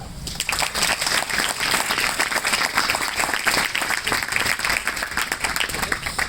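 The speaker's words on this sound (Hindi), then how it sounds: "बजाओगे ताली?" A group of children claps together in sustained, lively applause, rapid overlapping hand claps filling the room at moderate level with a few voices mixed in.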